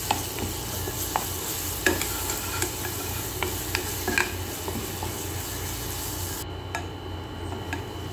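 Chopped coriander and crushed garlic frying in a pan for garlic and vinegar trotters, with a steady close sizzle and repeated light clicks and scrapes from stirring throughout.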